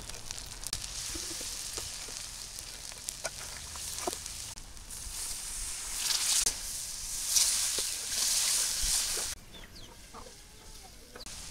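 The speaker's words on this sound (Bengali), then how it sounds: "এই তেলের মধ্যে আমি মশলা ভুনিয়ে নেব।" Chopped onion, garlic paste, cumin paste, turmeric and chilli powder frying in hot oil for a Bengali fish kofta curry, a continuous sizzle that swells and fades, with a few clicks and clatters and no talking.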